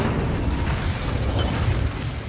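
Incendio fire spell cast in the video game Hogwarts Legacy, a loud, sustained roaring blast with a deep, rumbling low end and a fiery rush that continues throughout.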